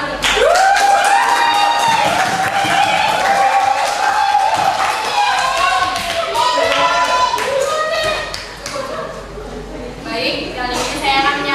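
Clapping from an audience at a student public-speaking event for a contemporary television media discussion, mixed with loud overlapping voices and cheering.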